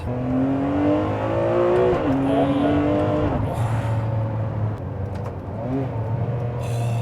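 Ferrari 599 with its V12 engine accelerating hard up close, a loud rising engine note that shifts once around the midpoint and then keeps pulling, steady and strong throughout with no talking.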